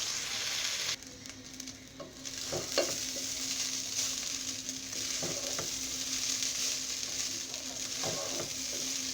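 Broken rice salted and fried in a pan while being stirred, giving a constant bright sizzle broken by several scraping spoon strokes, close by and without speech.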